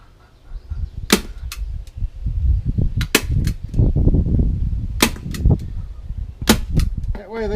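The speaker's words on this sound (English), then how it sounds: "I'll just take a regular staple and put them on there." Staple gun repeatedly driving staples through screen into a wooden beehive top, five or six sharp snapping clacks spaced irregularly over a background of rustling and handling noise.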